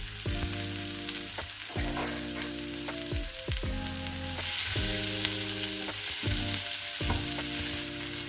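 Onion and a green chilli sautéing in a hot pan for a tuna side dish, a steady close sizzle with intermittent stirring scrapes and spoon strokes repeating every second or so, no voices.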